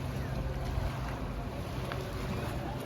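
Steady rushing engine drone and wind noise of a single speed boat moving across water in Munnar, constant and fairly loud, with no talking.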